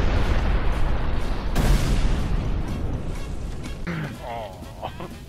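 A motorbike in a driving video game blows up: a broadband explosive burst near the start and a sharper blast around the middle of the clip, followed by rumbling debris and fading noise, with a voice heard over the top.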